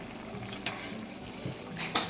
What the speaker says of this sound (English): we are going to add in 4 tablespoons of gluten-free soy sauce